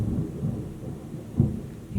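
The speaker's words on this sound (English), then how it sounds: "you guys hear the thunder?" Thunder rolls during a rainstorm, a low, muffled rumble that swells and fades with a brief stronger crack partway through, heard from indoors over steady background rain.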